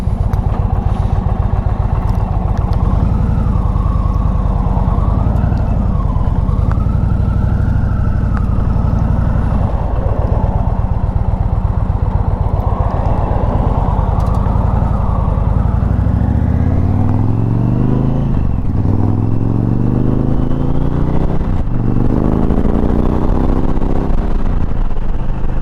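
An Indian Challenger motorcycle rides on the road, its engine droning loud and steady with rising and falling revs and shifting pitch as it accelerates.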